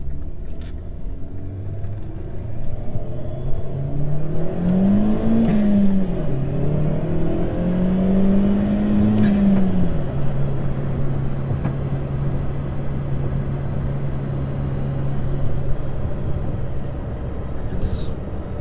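A Chevrolet Sonic's small engine accelerates during a pull, its tone rising and dipping through shifts before settling into a steady cruise drone, heard from inside the car with some talk over it.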